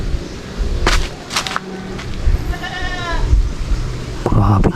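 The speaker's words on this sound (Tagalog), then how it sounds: "Yan oh, may kambing nga." A goat bleats from below a hillside graveyard, heard as a couple of wavering cries at moderate distance amid outdoor handling noise.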